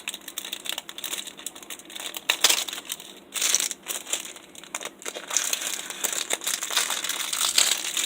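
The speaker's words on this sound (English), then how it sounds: "I'm going to put that back in the plastic here." Plastic packaging crinkles and rustles close up as bamboo knitting needles are slid back inside, in irregular bursts of crackling that continue for several seconds with no talking.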